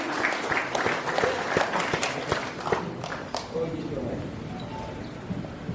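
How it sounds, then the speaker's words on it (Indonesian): Audience applause at the opening of a church working meeting, dense clapping at first that thins out and fades, with a voice speaking over it. "berikan tepuk tangan sekali lagi"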